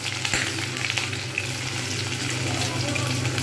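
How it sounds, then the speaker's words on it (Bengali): Paneer pieces frying in very hot oil make a dense, even sizzle that holds steady and close throughout, with a faint clink near the start. "তেল একদম গরম হয়ে গেছে, সুতরাং আমি এর মধ্যে পনিরগুলো এগুলো আমি ঢেলে দেবো।"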